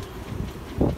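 Strong gust of wind on a sailboat at sea during a rough crossing with gusts over 50 knots, a low roaring rush that swells loudly near the end of the brief moment.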